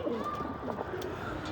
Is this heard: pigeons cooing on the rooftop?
yes